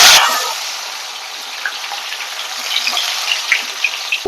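Bitter gourd pieces dropped into hot oil in a large pan, a loud burst of sizzling at the start that settles into a steady hiss with scattered pops and crackles.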